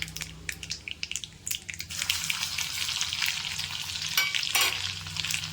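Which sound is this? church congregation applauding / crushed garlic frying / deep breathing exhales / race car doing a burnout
crushed garlic frying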